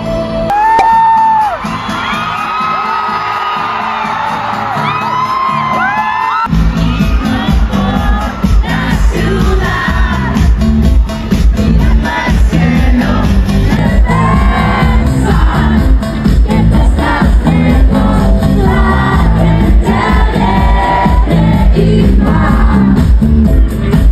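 A festival crowd at a Vive Latino 2024 concert cheers, whoops and shouts loudly and continuously, with heavy booming music joining after the first few seconds.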